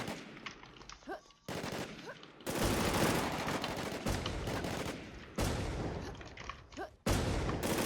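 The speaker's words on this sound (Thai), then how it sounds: "เสียงปืนมันดัง" Gunfire in the video game Warz JapanZ: loud bursts of automatic shots hammer in several long stretches, broken by short quieter gaps with fainter game sounds.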